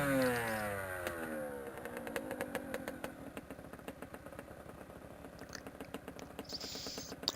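A trail-riding motorcycle engine idles close by with a rapid, uneven putter, revving slightly now and then.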